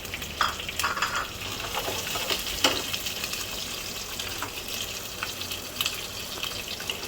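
Curry leaves and green chillies sizzle in hot oil in a pan for okra fry, a steady crackling hiss with occasional sharper pops and spatters, close and fairly quiet, with no voices.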